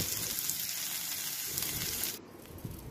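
Onion frying in a pan makes a steady close hiss and crackle of hot oil. The sizzle holds even and fairly quiet, then briefly dips and swells again.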